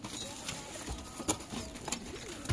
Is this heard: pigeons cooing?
yes